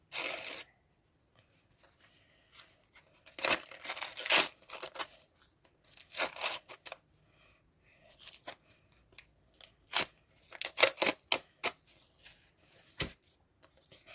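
Paper surprise packets with a Kuromi collection being unwrapped, stiff paper crinkling and tearing in bursts of rustle close to the mic, with quiet gaps between handling.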